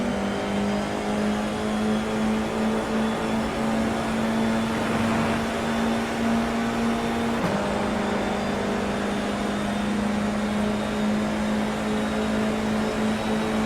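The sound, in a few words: race cars accelerating off the start line in iRacing video game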